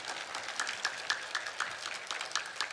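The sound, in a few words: congregation clapping in thanks to God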